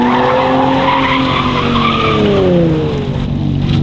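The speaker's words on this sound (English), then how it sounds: "Tonight, Nismo Nick attempts to slide a 2024 Z." A 2024 Nissan Z slides with its tires skidding, a loud sustained squeal with wavering pitch over engine noise, close and continuous for several seconds.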